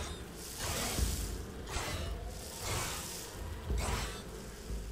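Bees buzz in a dinosaur survival video game, a dense droning hum that swells and fades in several close, loud surges over a low rumbling background.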